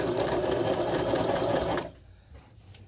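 A sewing machine stitches a crotch seam, running steadily and loudly up close for about two seconds before stopping abruptly, leaving faint handling noise.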